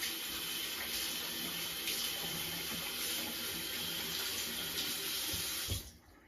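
A kitchen tap runs in a strong, steady stream while sticky New Year cake dough is rinsed off fingers. Then it shuts off abruptly near the end.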